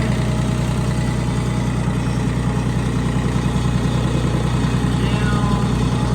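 A Deutz-Allis 5230 diesel 4x4 tractor runs steadily with its PTO engaged, a constant loud, low, droning engine sound heard close up with no break.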